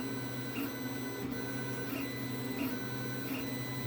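A 3D printer fitted with an experimental VzBoT hotend runs a high-speed flow test, producing a loud, steady mechanical whine and hum with faint, regularly repeating pulses from the moving motors.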